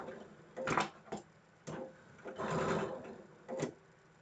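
A sewing machine stitches a quilt block in several short bursts of whirring and clacking, separated by brief pauses, close and fairly quiet.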